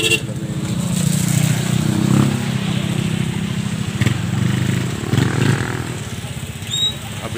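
A motorcycle engine runs nearby with a steady low drone that rises and falls slightly, on a seaside outing in the Philippines, with some faint background noise around it.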